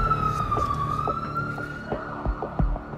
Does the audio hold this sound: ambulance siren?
yes